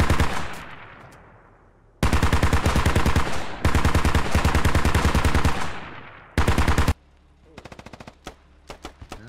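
A BTR's autocannon in the video game Squad fires long sustained bursts, loud and rapid, with abrupt stops between volleys, followed by fainter distant shots near the end.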